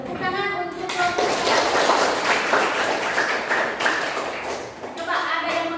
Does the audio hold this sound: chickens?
no